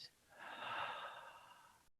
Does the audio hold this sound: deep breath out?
yes